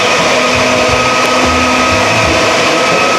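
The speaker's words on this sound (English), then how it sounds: "then run it through the grinder" An electric meat grinder works sausage meat with a loud, steady motor whine and hum that holds constant throughout and has a faint rumbling variation underneath.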